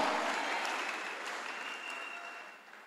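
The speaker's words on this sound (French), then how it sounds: "On acclame le Seigneur Jésus-Christ" A church congregation applauding, a dense wash of clapping from many hands that holds steady and then slowly fades.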